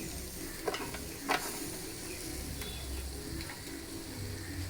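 Onion being stirred in a frying pan, sizzling steadily after coconut oil and coconut milk have gone in, with a few sharp scrapes and clinks of the spoon against the pan close up.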